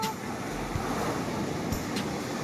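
Big sea waves surge at a fishing port, a continuous rushing wash of surf with wind noise on the microphone and a couple of faint bumps, no speech.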